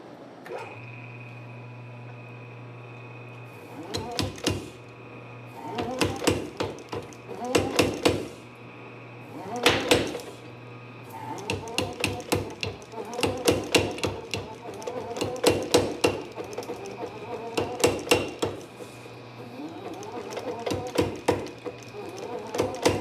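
Power hammer pounding a shoulder into hot steel at a forge, heavy repeated blows in rapid bursts separated by short pauses, loud and close over a steady machine hum.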